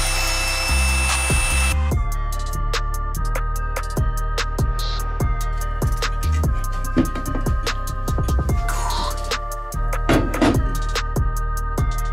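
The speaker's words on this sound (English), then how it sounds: "I have to grind down this weld because it's actually stuck on here." A grinder works down a weld on a dirt bike frame, loud rhythmic grinding and scraping bursts repeating close up, with metallic ringing and knocks between passes.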